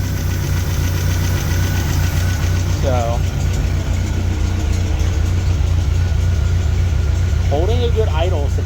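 An MGB car engine idles with a loud, steady low rumble and a slightly knocking pulse throughout, while someone talks briefly over it.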